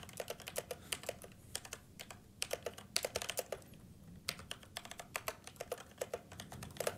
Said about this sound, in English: This is the brown version of mechanical switches.